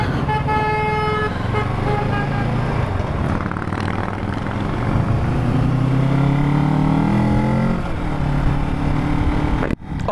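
A Kawasaki Ninja 650 motorcycle fitted with a LeoVince exhaust pulls away on a city road, a loud, rising engine drone that stays close throughout and cuts off abruptly near the end.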